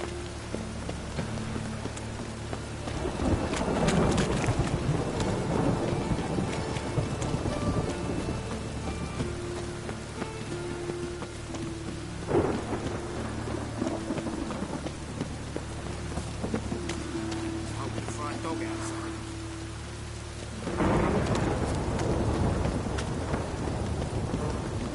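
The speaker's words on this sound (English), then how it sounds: "Rain again." Rain pours continuously in The Witcher 3 video game, with rolling thunder swelling several times over the steady hiss of the downpour.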